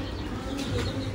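Domestic pigeons kept at home coo softly and low, a short murmuring call close by.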